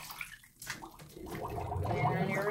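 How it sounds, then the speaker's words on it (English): Water runs and splashes continuously while a trombone main slide is rinsed, a close, soft wash that grows slightly stronger toward the end. "And then give everything one last rinse."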